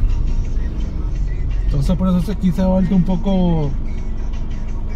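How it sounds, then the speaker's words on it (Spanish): Slow road traffic in the Colonia Nicarao area of Managua, with a steady rumble of car engines and a vehicle revving close by, heard under continuous talking in Spanish. "Aquí se ha puesto un poco lento el tráfico"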